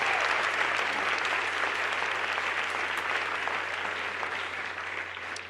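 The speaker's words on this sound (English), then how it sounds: "Okay, now you can clap." An audience at a St. Lucie County Young Floridian awards event gives sustained, dense applause after the honorees are named, steady and loud throughout and easing slightly near the end.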